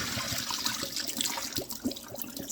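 Tap water runs steadily as soaked ugu (fluted pumpkin) leaves are washed in a bowl, a continuous close splashing trickle with small bursts of sloshing as the leaves are moved.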